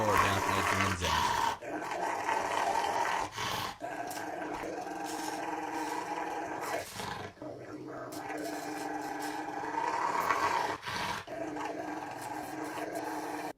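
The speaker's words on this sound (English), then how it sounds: "Would you be brave enough to trim this dog's nails?" A dog growls and whimpers in bursts while its nails are trimmed, the close, rumbling growl broken by short pauses across the whole stretch.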